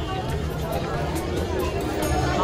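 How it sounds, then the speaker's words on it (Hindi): Dense crowd chatter at Chhatarpur temple in Delhi, a steady wash of many voices close around, continuous and loud throughout. "देखो कितनी भीड़ हो रखी है आज।"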